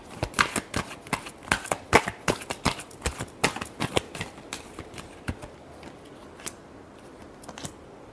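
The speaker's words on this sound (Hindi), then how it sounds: "Last shuffle." A deck of cards is shuffled for a reading in a quick, close series of sharp riffling snaps that thin out toward the end, with no talking.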